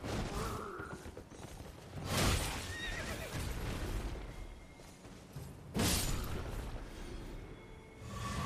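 A horse whinnies loudly in Elden Ring, with a second neigh a few seconds later over a busy background of clattering and rumbling effects.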